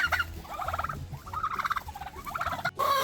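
Several turkeys gobble outdoors in the snow, clear close bursts of rapid gobbling repeated three or four times over a faint background.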